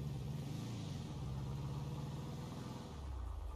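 In GTA V, a steady, droning engine hum from a 1966 Ford F-100 truck, with a pitch shift near the end as the revs change.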